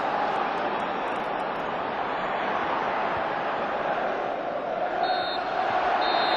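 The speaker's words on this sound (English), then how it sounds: "A huge cheer from the stands." Football crowd at St James's Park, Newcastle, a broad steady roar of cheering from the stands at full time, distant and sustained with no clear peaks.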